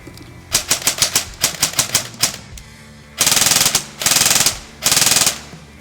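High-torque-motor airsoft gun firing: several short semi-auto shots in a quick uneven rhythm, then three sharper full-auto bursts with a steady ratcheting rattle, close and loud.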